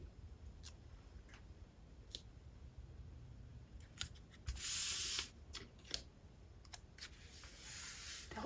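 A few brief snips of scissors trimming a 1-inch paper circle for a handmade greeting card, then a short burst of rustling or sliding, all quiet and close with no talking.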